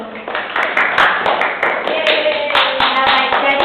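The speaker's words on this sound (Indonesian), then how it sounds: "Silakan tepuk tangan dulu." A classroom of students claps hands together in a brisk, steady burst of sharp slaps lasting several seconds, with a few voices chattering beneath the clapping throughout.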